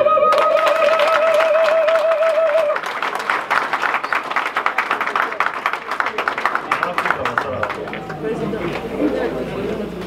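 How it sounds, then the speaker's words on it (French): An audience at an association's official event applauds, a dense wash of many hands clapping that follows a voice and continues for several seconds, close and loud with some crowd chatter mixed in. "On applaudit s'il vous plaît, on applaudit"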